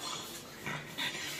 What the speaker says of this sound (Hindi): असली का कुत्ता है रे बबुआ